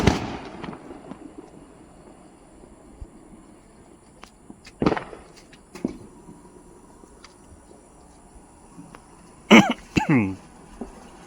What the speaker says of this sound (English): fireworks are being popped around here in the community neighborhood of Boulder Ridge